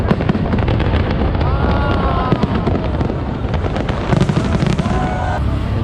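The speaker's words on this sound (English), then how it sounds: "see the fireworks and enjoy the Hanoi by the lake in Hanoi, ready to see the fireworks for the new year" New Year fireworks over a lake in Hanoi crackle and pop densely and continuously, loud and close with a steady roar of bursts, wind buffeting and crowd noise underneath.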